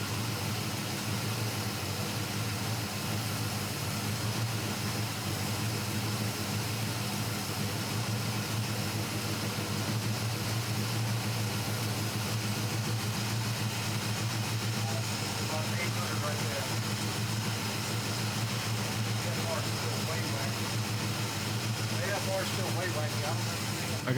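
A carbureted engine idles steadily while its idle mixture is adjusted, a constant droning rumble with a hissy, noisy edge that holds at an even level throughout, with no clear change in pitch.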